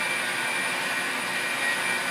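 A Hamilton Beach Professional 14-cup food processor running on cucumber, giving a steady, loud, close motor whir with a high whine that holds evenly throughout, with no talking.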